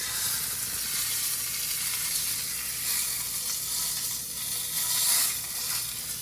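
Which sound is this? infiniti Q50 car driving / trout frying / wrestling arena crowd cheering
trout frying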